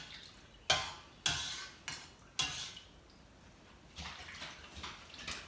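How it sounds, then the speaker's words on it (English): A slotted spoon stirs culture into milk in a pot, with four sharp metallic clinks at the start followed by soft swishing and light sloshing, close and quiet with no talking. "I'm gonna just stir it in."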